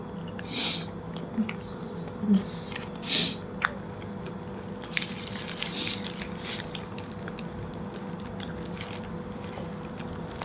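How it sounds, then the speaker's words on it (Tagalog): Someone chews and eats food close to the microphone at home, with soft biting and squishy mastication sounds recurring irregularly against a low steady room hum. "tapusin ko lang itong kinakain ko, ha"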